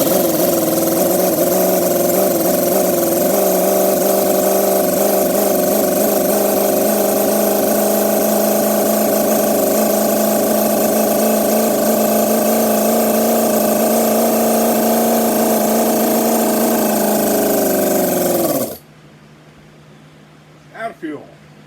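A CISON 1/6 scale LS gas model engine runs loud and steady at a constant pitch for about eighteen seconds, then abruptly cuts out, leaving near silence with a couple of faint knocks.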